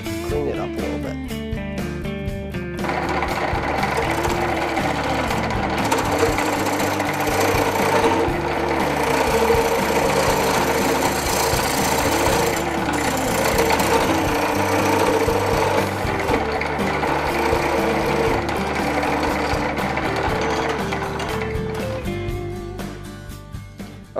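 A wood lathe spins a turned piece of wood for a friction pot turkey call while a hand tool cleans up the surface, a loud steady whirring drone with rhythmic scraping that runs unbroken, then winds down near the end.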